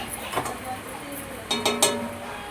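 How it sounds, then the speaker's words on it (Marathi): Potatoes and kidney beans being sautéed in a pan, with a metal spoon clinking and scraping in short bursts as the mixture is turned, and a faint background hum. "हे आता मी छान परतवून घेते."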